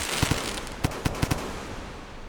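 Firecrackers go off in the video game Rain World as a string of sharp pops, about eight cracks in uneven pairs and singles, loud over a constant dense hiss of background noise with no voices.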